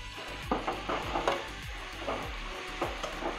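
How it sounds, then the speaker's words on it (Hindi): Okra tossed into a pan of softened cooked tomatoes and stirred over the gas flame, with a soft steady sizzle and repeated scraping strokes of a spoon about twice a second, close by. "भिंडी इसमें डालकर चलाते रहें।"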